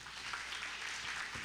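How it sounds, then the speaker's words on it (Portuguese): A church congregation applauding during a sermon, a faint but continuous wash of many hands clapping heard from a distance with no speech over it. "Aplauda bem forte ao Senhor."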